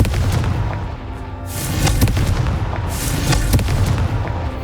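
Confringo fire spell bursts in Hogwarts Legacy, loud fiery blasts and crackling booms layered over continuous combat noise, about two strong hits a second or so apart.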